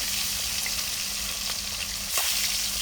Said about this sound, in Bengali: একে একে মাছগুলো দিয়ে এবার ভেজে নিব মাছগুলো লাল লাল করে